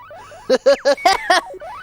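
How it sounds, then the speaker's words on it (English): An old video tennis game beeps in five short, evenly spaced electronic tones, loud and close, standing alone against near silence. "The old video tennis game you have."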